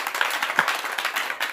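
A church congregation applauding during a Sunday service, a short burst of brisk, close handclapping from many people.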